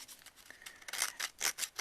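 A Tim Holtz Distresser scrapes along a paper edge in a run of quick rasping strokes, close and crisp, growing louder toward the end with no talking.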